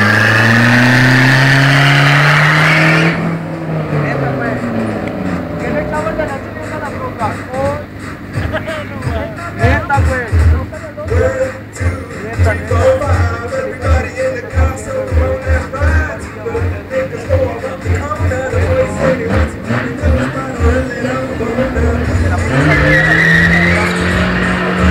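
A naturally aspirated Nissan Altima races, its engine revving hard through gear changes with screeching, skidding tires; people talk over the din, and the loud engine drones on throughout.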